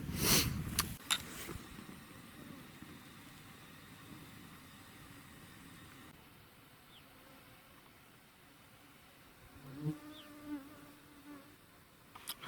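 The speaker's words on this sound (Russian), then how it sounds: "Комаров тьма, кусают, пришлось одеть капюшон." Mosquitoes swarming at a night campsite in mild weather, a faint, thin whine that hovers close to the ear with a steady drone, briefly louder near the start and again toward the end.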